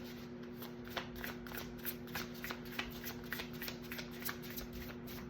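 Tarot cards being shuffled by hand, a steady run of soft riffling and flicking close by with small taps throughout, over a faint constant hum.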